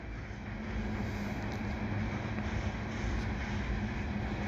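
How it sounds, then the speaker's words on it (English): A CP freight train of tank cars rolls through Du Canal station in winter, heading south toward the St. Lawrence River bridge. It gives a steady, continuous rumble and rail roar at moderate distance, unbroken and without talk. "but at least I got this train"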